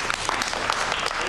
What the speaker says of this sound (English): Give a clap for that, George.